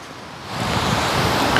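Steady wash of sea surf breaking on Suwan Kliao Thong beach at Laem Klat in Thailand, a close, broad, continuous roar that swells slightly louder.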